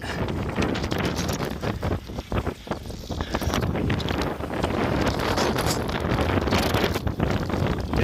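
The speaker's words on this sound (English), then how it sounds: "But we got 40-mile-an-hour winds here. Feel it." Strong 40 mph wind buffeting an outdoor microphone, continuous loud rumbling gusts with brief dips, no speech.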